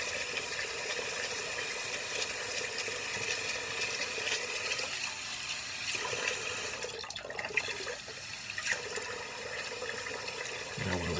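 Warm water runs steadily from a bathroom tap into a sink, a quiet continuous splashing with no talk and a small change in flow near the end.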